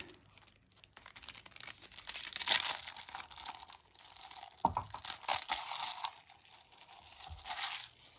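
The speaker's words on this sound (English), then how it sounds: "Sometimes they're just a little too sticky to get out of those plastic containers, those little plastic bags." Little plastic bags crinkle and rustle as collectible figures from a subscription unboxing are pulled out, irregular crackling bursts and crumpling, near and fairly loud, with no talking.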